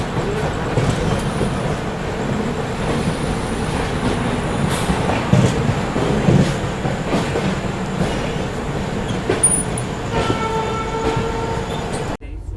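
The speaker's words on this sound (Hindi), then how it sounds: "डीडीयू पर अराइव हो रही है पटना नई दिल्ली तेजस" The Patna–New Delhi Tejas Rajdhani Express rolls into DDU station with a loud continuous rumble, rhythmic wheel clatter and a brief high squeal near the end, with no talk over it.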